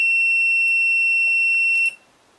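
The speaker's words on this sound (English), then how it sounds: "I get about a couple of ohms, which is enough to trigger the continuity function of the meter" A digital multimeter's continuity beep sounds while testing the front brake switch on a 1998 Kawasaki ZX6R: one steady, loud, high-pitched tone held for nearly two seconds, then cut off, with a few faint clicks around it.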